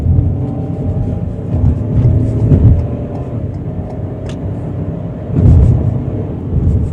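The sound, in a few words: 2024 Ford Bronco Sport 3-cylinder engine accelerating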